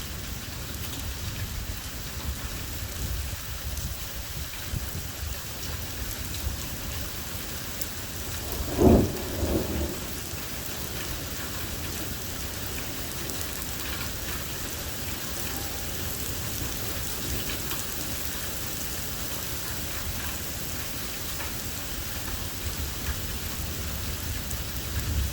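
Steady heavy rain pours during a tornado-warned thunderstorm with large hail, and a single rumble of thunder surges briefly near the middle. The downpour is continuous and fairly loud throughout, and no one speaks.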